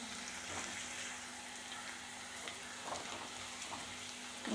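Curry leaves and onions sauté in a pan for a Kerala-style fish curry, producing a soft, even sizzle that runs steadily with no talk.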